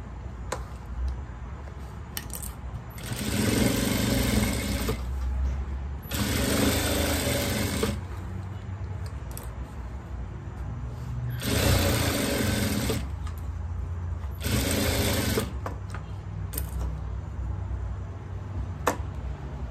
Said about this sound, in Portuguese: E agora eu vou costurar aqui em volta.